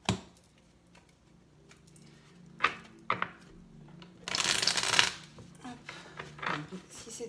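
Oracle cards are shuffled by hand in quick papery riffles and taps, with a louder burst of rapid shuffling in the middle, close and intimate, with someone speaking softly around it.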